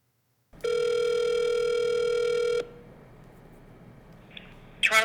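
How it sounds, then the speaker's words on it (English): A telephone ring tone sounds as a single long steady electronic tone during a call to a corporate communications office, followed by quiet line hiss and a faint click at the end. "So I make a phone call to corporate communications"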